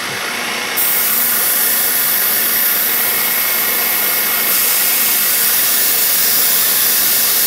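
A milling machine running at 1800 RPM in high gear while cutting, with a strong air blast clearing chips, giving a steady, loud, broadband hiss and whir that continues without a break.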